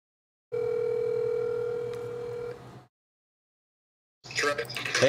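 A steady phone dial tone hums for about two seconds while a call is being placed, then cuts off; after a silent gap, a burst of other noise follows.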